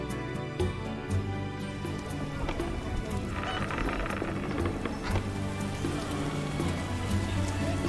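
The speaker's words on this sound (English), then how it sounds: "Oh, it's raining." Rain falls in The Witcher video game, a steady soft patter spread evenly throughout, mixed under quiet sustained background music and faint scattered ticks.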